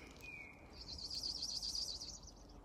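A man outdoors imitates a bird call: a brief high whistle, then a longer run of rapid trilling chirps. The voice is moderately faint over quiet open-air background.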